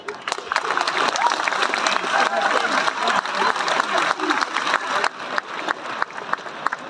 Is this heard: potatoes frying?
no